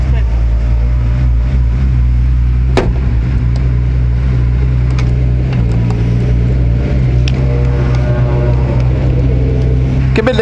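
A Ligier JSP4 race prototype with an automatic clutch pulls away from a standstill, its steady low engine drone holding close and loud throughout, with a few sharp mechanical clicks and voices talking over it.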